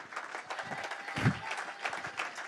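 A church congregation claps and acclaims at a worship service, dense continuous applause with crowd voices, close and steady throughout.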